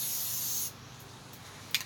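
A spray paint can hisses in a steady loud burst for under a second during live spray art, then stops, followed by a faint tap.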